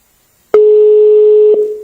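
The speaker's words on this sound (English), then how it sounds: "It's ringing." A phone call's ringing tone sounds as one steady electronic tone that starts abruptly, holds for about a second and then fades out, loud and alone with no voices.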